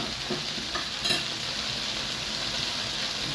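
Peanut vegetables with free-range chicken cooking gently in a pot give off a steady, soft sizzle and bubbling hiss, continuous and close, with a faint stir or clink near the start and no talking.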